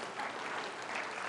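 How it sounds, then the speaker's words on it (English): An audience applauds at a mental math show, a continuous wash of many hands clapping, even and steady throughout without talk. "Give them a round of applause"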